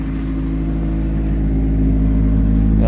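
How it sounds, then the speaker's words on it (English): A noisy power steering pump with a kinked pipe, on the running turbo engine of a 40-year-old Ford Capri, gives a loud steady whine over a deep engine drone that rises slightly toward the end, heard close up with no talk. "this noisy power steering pump is because there's a kink here in the pipe"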